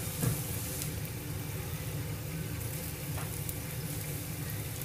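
Ginger and other ingredients frying in oil for braised sea cucumber: a steady, close sizzle that continues throughout, with a few faint clinks and stirring sounds.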